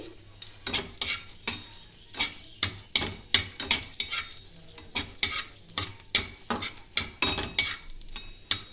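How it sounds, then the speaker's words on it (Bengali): Dry red chillies, stalks on, fry in oil, the sizzle broken by quick rhythmic scraping strokes of a spatula against the pan, close and steady. "চারটে শুকনো লঙ্কা একটু ভেজে নেবো আমি"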